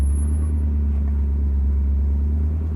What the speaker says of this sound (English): I'm gonna go ahead and turn the hand throttle up until it starts to give me some RPM.